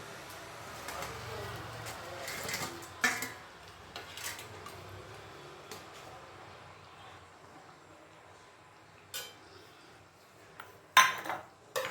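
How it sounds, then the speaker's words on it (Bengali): Sweet pumpkin koftas go into a simmering curry pan on a low gas flame, with scattered clinks and knocks of utensils against the pan and a quiet background hum. "আর এবারে আমি কোপ্তাগুলো দিয়ে দিচ্ছি"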